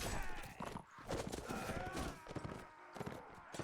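Horse hooves clip-clopping in the game Mount & Blade: Warband, a busy stream of rapid hoofbeats mixed with clattering battle noise throughout.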